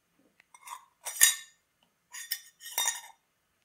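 Metal clinks and rattles come in four short bursts as a blade is fitted into a nimko maker, quiet and close with pauses between, no talking.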